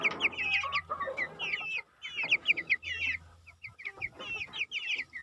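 Broiler chickens crowded into a tight coop, clucking and squawking in busy overlapping bursts close by, with loud, chattering calls coming in waves and no talking.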